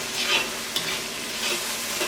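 Capsicum and onion sizzle in a pan with soy sauce as a spoon stirs them, giving a few scraping strokes over a continuous close fry and no voices.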